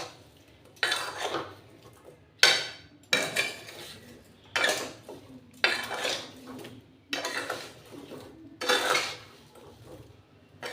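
Mango pickle ingredients stirred in a bowl with a spoon, a series of about eight rhythmic scraping, clinking strokes at even intervals, close and clear with no talking.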